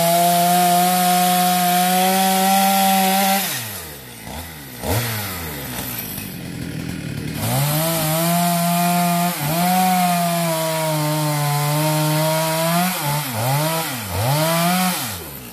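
A chainsaw roars steadily, its pitch dipping and rising as the blade bites into a coconut palm stump, with several short drops in engine speed between cuts.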